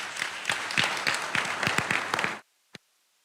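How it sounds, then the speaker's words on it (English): Audience at a Florida Bar convention general assembly applauding: a steady wash of many hands clapping with distinct sharp claps, ending abruptly, then one lone clap after a brief silence. "A big round of applause."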